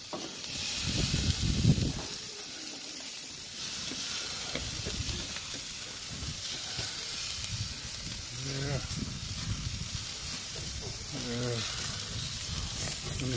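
A burger sizzles on a grill with a steady, bright hiss, while voices talk now and then over the frying.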